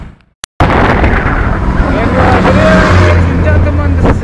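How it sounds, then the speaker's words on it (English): A Hero Glamour fuel-injection motorcycle being ridden, a loud, continuous engine drone with rushing wind noise after a brief silence at the start, and someone talking over it. "riding on my Hero Glamour fuel injection"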